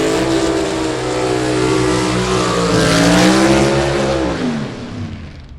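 A 1955 Chevy and a 1967 Chevelle gasser drag race car roar close by at full throttle, a loud sustained engine howl that climbs through the revs and then fades slightly at the end.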